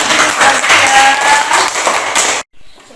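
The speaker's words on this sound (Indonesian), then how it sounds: "tepuk tangan kepada Patan, sekarang sudah tidak berkelahi lagi" Children in an elementary classroom clap together for a classmate, a brisk, loud burst of hand-clapping that stops abruptly, leaving near silence.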